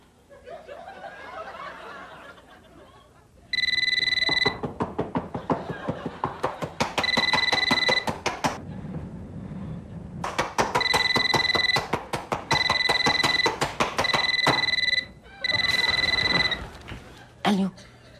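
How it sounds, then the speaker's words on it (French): A telephone rings in repeated loud electronic bursts, starting a few seconds in and recurring with short gaps, over a quiet indoor background with faint chuckling. "je voulais pas que le téléphone sonne"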